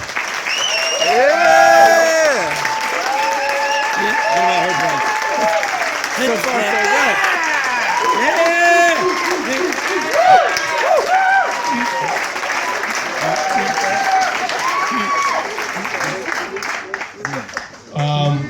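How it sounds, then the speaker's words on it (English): Guests at a wedding toast break into sustained applause, steady dense clapping with lively cheering and shouting voices throughout, then fading near the end. "we owe a round of applause to Mr. and Mrs. Murphy, Tom and Naomi Hatch for making this happen"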